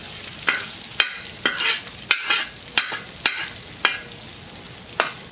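Eggs frying on a plow disc discada, a bright sizzle with sharp spatula clacks and scrapes as they are flipped, about eight distinct strikes over a few seconds, close and loud.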